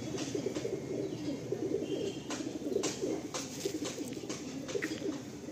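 Madrasi, Andhra and Malwai breed pigeons coo in steady, overlapping murmurs close by, with soft scattered clicks and wing rustles mixed in and no one talking.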